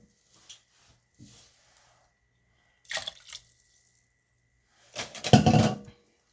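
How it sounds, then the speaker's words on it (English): Broth poured into a Crockpot Express pressure cooker for beef and barley vegetable soup, heard as two short, close splashing pours, the second louder and longer, with quiet gaps between. "I think I'm going to add 1 more cup of liquid"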